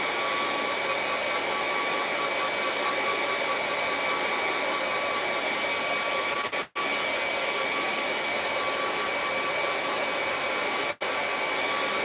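Hair dryer blowing on acrylic paint to dry a painting of bushes and shrubs, a loud, constant close whir with a steady whine that cuts out briefly twice.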